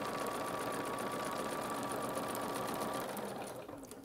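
A sewing machine chain-stitches fabric pieces in a continuous row, its motor whirring in a steady, close hum that trails off toward the end.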